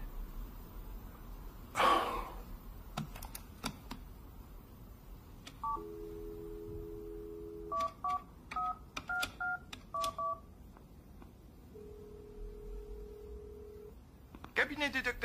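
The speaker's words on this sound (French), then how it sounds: "Le docteur Cooper attend mon coup de téléphone" A series of touch-tone DTMF beeps as a telephone number is dialed, short paired tones in quick bursts with a longer steady tone and faint breath or rustle between, fairly quiet and close.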